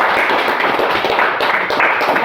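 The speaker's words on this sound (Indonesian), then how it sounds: "Tepuk tangan untuk kelompok 2." A classroom group of students claps in applause for a presenting class group, a dense, steady patter of hands close by, with a voice faintly under it.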